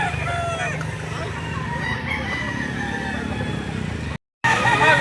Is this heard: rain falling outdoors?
no